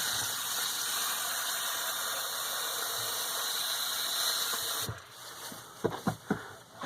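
Water runs steadily from the faucet into a tiny sink inside a 19ft Airstream Bambi camper, an even rushing stream that cuts off partway, followed by a few faint clinks and knocks.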